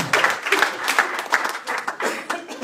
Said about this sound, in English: Let's make it the Lord a big hand clap of praise.